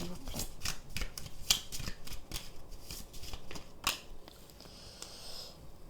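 Oracle cards being shuffled and drawn by hand, a close, quiet run of rapid papery riffles and flicks with sharper snaps, irregular and unaccompanied by speech.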